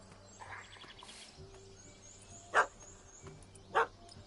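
Two sharp, loud dog barks from a puppy in The Witcher 3 video game ring out about a second apart over a quiet ambient game background with faint bird chirps.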